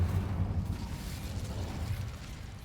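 An Incendio fire spell cast in Hogwarts Legacy bursts out as a low, rumbling roar of flame, loud and close, sustained for a couple of seconds with no talk over it.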